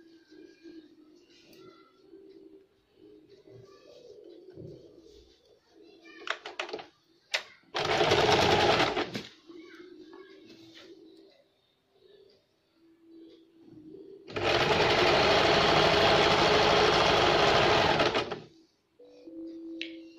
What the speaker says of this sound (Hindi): इस तरह से दूसरे साइड को भी हम इस तरह सिलाई देंगे।